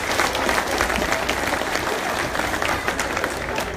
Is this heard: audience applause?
yes